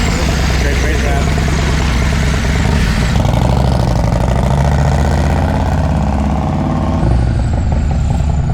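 A Harley-Davidson motorcycle engine rumbles loudly and close with a deep, uneven idle, then swells into heavier revving, while people talk over the noise.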